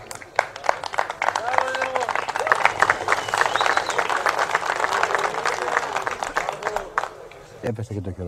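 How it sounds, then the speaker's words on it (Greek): Spectators at a pigeon club celebration in Volos, Greece, break into applause, with brisk scattered clapping mixed with crowd chatter and nearby voices. "Έπεσε και το χειροκρότημα."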